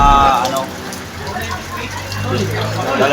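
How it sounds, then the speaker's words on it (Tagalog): Heavy rain pours down in a dense, steady hiss around a stalled delivery truck, with someone talking over the downpour. "Eh malakas ang ulan guys eh."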